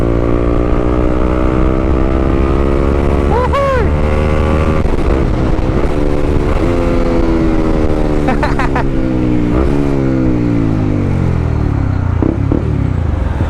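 A motorcycle engine, apparently from a CB150X ride, drops through gears with stepped pitch falls and brief revs, loud and close over steady road and wind roar.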